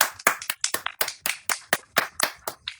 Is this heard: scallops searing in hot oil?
no